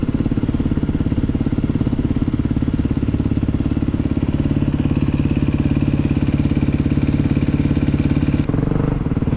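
A motocross dirt bike engine runs steadily throughout, a loud, close, continuous buzzing drone as the bike is ridden through a small town, with a brief dip in the sound near the end.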